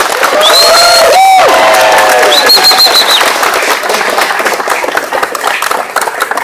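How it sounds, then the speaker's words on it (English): A crowd at a Trump rally in Manchester claps and cheers loudly and steadily, with whoops and shouts rising over the applause before it slowly thins out. "give yourselves a great round of applause for coming out to this wonderful event"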